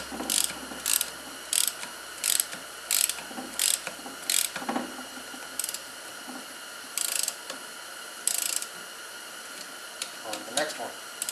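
A ratchet wrench snugs down bolts on an NP231J transfer case during reassembly, making repeated short bursts of sharp, close clicking in an even rhythm over a faint background hum, with brief talk in between.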